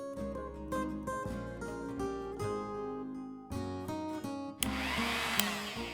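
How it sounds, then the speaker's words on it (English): A kitchen grinder whirs loudly for the last second or so as it blends cooled cooked vegetables into a smooth gravy base, starting abruptly after a stretch of tonal background music. "I am removing the bay leaf and transferring everything else to a grinder"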